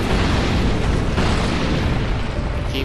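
A boss's fiery eruption in Dark Souls 2 roars as a dense, loud, sustained burst of flame and rumble that fills the whole moment without letting up.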